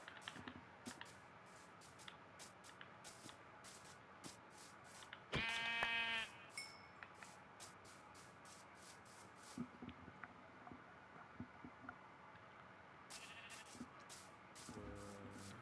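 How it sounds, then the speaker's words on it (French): Minecraft sheep bleat in short repeated calls, faint to moderate, scattered over a quiet game background with small clicks and a louder burst of effects midway. "Il me faudrait de la laine. Et ça tombe bien, il y a v'là des moutons."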